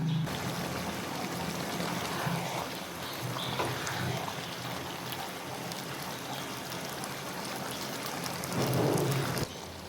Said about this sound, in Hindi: थोड़ा सा पानी भी ऐड करूँगी तकरीबन हाफ कप के करीब